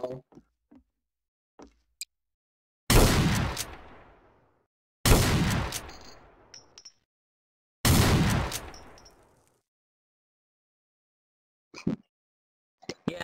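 Three loud gunshots in a Garry's Mod WWII roleplay game crack out a few seconds apart, each followed by a long rumbling echo that fades, with faint clicks and small taps in the quiet gaps between them.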